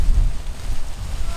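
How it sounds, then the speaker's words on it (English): Gusty wind buffets the microphone during a paramotor launch, a loud, rumbling low roar that surges and dips throughout. "we're getting hit with a gust front"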